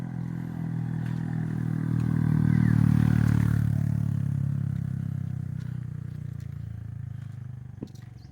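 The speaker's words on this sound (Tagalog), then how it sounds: "May motor." A motorcycle on a rough uphill road passes nearby, its engine rumble swelling to a peak and then fading, with some rattling clatter, no talk.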